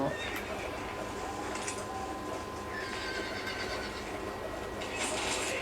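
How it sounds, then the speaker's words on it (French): A horse-drawn cart rolls along in Red Dead Redemption, with a horse whinnying and hooves clip-clopping steadily over a constant background of game sound. "On va conduire une charrette, donc j'aime bien conduire les charrettes."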